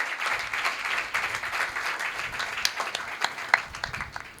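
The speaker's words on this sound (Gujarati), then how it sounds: "એકવાર જોરદાર તાળીઓથી આપણે વક્તાશ્રીને વધાવીશું." An audience at a religious anniversary gathering breaks into steady applause, a dense wash of many hands clapping at moderate distance, sustained throughout with a few sharper claps near the end.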